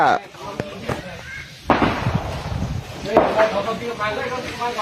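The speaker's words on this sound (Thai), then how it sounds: "ยิงกันแล้ว เอายแล้ว" Gunfire exchanged at the Thai-Cambodian border at Nong Ya Kaeo: a few sharp bursts of shots and impacts ring out against steady background noise, with people speaking nearby.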